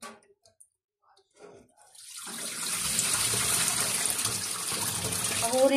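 Water gushes steadily into a sink while cut pork leg is washed. A few soft clatters come first, then the loud continuous pour fills the rest of the moment.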